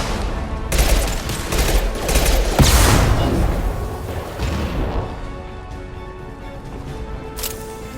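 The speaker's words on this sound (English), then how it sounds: "Firing concussive shot!" A concussive shot fires in Mass Effect 2 amid a dense, loud fusillade of game gunfire, with a heavy impact burst near the middle before the barrage tapers into quieter rattling.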